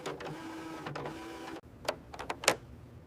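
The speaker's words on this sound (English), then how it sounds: "and turn the printer back on." A Canon PIXMA G6020 inkjet printer powers on with a steady mechanical whir, then a pause followed by several short clicks and clacks from its internal mechanism, heard close and alone.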